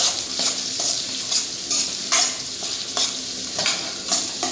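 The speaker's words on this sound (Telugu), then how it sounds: "కలుపు మంచిగా" Egg curry is stirred in a frying pan: a spoon scrapes in regular strokes about twice a second over a constant close sizzle, with no talking.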